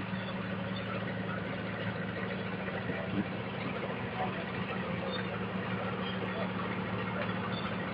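A small Caterpillar diesel engine runs steadily at a parade of antique power, a constant low droning hum with no breaks, heard at moderate distance against outdoor background.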